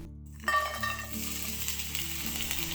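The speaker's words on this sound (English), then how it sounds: "I heat up some oil and add the frozen bell peppers harvested from our summer garden." Oil crackles and sizzles loudly as frozen bell peppers hit a hot pan, a steady frying hiss with a low background hum.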